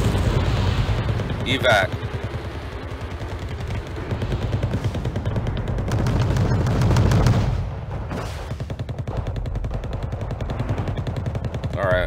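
An A-10 strikes in the Team Yankee war game with rapid rattling cannon fire and rumbling explosions, dense and loud throughout, while excited voices talk over it.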